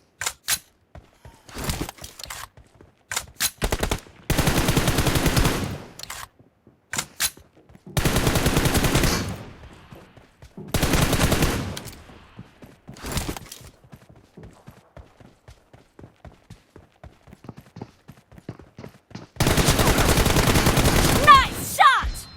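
Bursts of M416 rifle fire in PUBG Mobile team deathmatch, sharp rapid volleys alternating with single cracks and short silences over about twenty seconds, with occasional speech between the bursts.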